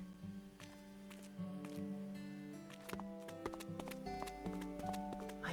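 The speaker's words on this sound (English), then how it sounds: "don't like Matthew's footstep sounds" Footsteps of a character in the video game Another Code Recollection, steady repeated clip-clop thuds that sound almost hoof-like, set over a bed of tonal game music.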